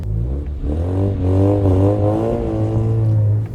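A Mazda RX-8 rotary engine revs steadily with a smooth, buzzy rising and falling tone, loud and close, heard from outside the car, no voices.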